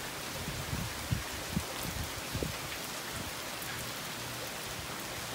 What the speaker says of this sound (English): This is a good, long-lasting rain.